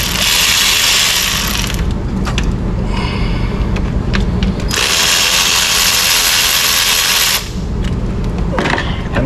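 Ratchet wrench loosening 10 mm bolts on a Dodge Charger engine, with long bursts of rapid, loud, close clicking separated by short pauses and a few single clicks and knocks.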